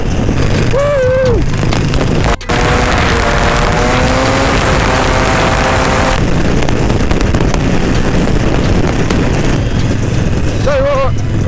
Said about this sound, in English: Going 80 miles an hour on a fucking no fairing bike.